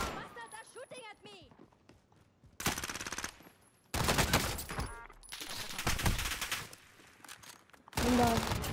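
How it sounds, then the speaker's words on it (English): Bursts of automatic gunfire ring out in a Call of Duty: Modern Warfare match, loud dense volleys separated by brief gaps, with a player talking over the early part and footstep-like clatter between shots. "they're shooting at me."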